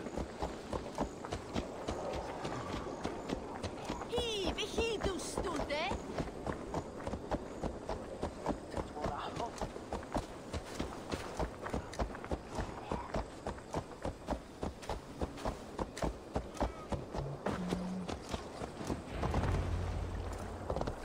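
Horse hooves beat a steady galloping clip-clop throughout in Assassin's Creed Valhalla, set in Lunden, loud and continuous with game ambience and brief other effects layered over the running rhythm.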